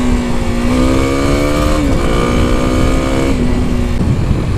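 A 2021 Kawasaki KLX300 dirt bike engine, loud and close, revving up through rising pitch with brief dips between gear changes, no talking.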